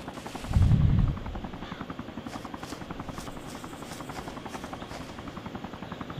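A steady, close helicopter rotor thrum in the video game DayZ runs throughout, with a brief louder burst near the start, rapid chopping pulses and faint gunfire-like cracks.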